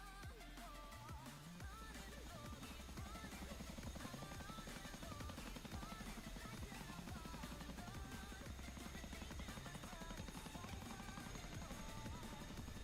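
A Chinook helicopter in a video game flies nearby with a dense, continuous rotor chop and engine drone that stays loud and steady throughout, with no talk over it.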